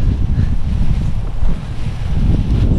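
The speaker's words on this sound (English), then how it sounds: "Can you hear the wind?" Strong gusty Santa Ana wind blowing across an open local park at over 20 mph, a loud, continuous roar of wind buffeting the microphone with surges and slight dips throughout.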